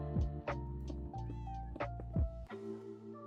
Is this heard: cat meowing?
yes